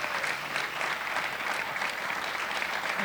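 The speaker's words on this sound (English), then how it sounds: "Why don't we give them a big round of applause" A large audience applauds at a community gathering for a human rights nonprofit, dense continuous clapping that stays level and full for the whole stretch with no voices over it.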